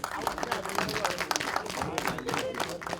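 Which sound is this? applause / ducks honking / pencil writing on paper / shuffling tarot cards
applause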